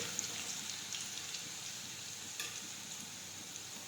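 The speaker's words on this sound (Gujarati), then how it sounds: "હવે આપણે તેમાં લસણ નાખી દઈશું પીસેલું. આ રીતે સતળી દઈશું." Crushed garlic sautéing in hot oil in a pan for an okra curry, a steady soft sizzle with faint crackles running throughout, close and fairly quiet, with no talk.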